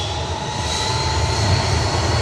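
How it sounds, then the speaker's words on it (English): An Airbus A321-200 jet rolls for takeoff at Manchester Airport, heard as a steady, loud engine roar with a high whine running through it and nothing else on top. "On the roll next, an A321-200."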